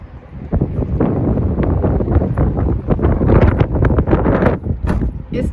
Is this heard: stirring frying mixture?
no